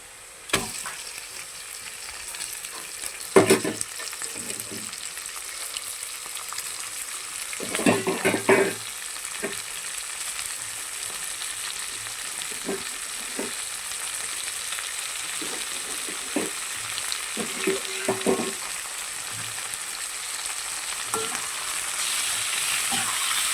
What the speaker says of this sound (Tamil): மீனை போட்டு நல்லா கிளறிடுவோங்க.